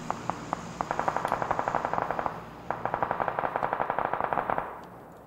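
Rapid automatic gunfire in PUBG, two long bursts of evenly spaced loud shots with a short pause between them and a few sharp single cracks at the start.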